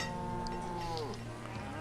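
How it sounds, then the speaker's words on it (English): Cattle lowing in the village-building game Banished: one long, clear moo that bends downward in pitch, alone against quiet ambience. "Cows, sheep, all coming along nicely."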